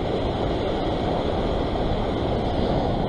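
Ocean waves washing onto a rocky shore during sea fishing at Long Bay, Sydney, a steady broadband roar of surf with wind noise, continuous and fairly loud.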